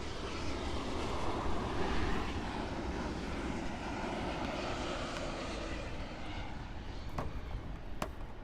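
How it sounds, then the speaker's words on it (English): An American Airlines Boeing 787-8 on approach to Miami International Airport, a steady, distant jet engine roar that holds evenly and fades slightly over several seconds, heard alone. "787 on approach. This is American Airlines flight 2706 arriving in from Havana."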